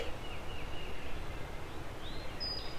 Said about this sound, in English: I'm hearing 2 turkeys